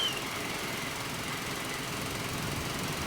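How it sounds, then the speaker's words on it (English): A BSA Bantam 350 motorcycle engine runs steadily close by, a continuous dense mechanical rumble and clatter with no pauses and no voices. "Bike's running absolutely fine, no problems whatsoever."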